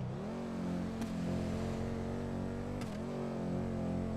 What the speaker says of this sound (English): I'm just doing burnouts, that's all.